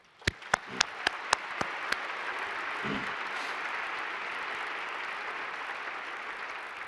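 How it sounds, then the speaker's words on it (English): At a Princeton graduation ceremony, a handful of sharp, separate claps ring out, then a large crowd breaks into steady, sustained applause. "Give yourself a round of applause."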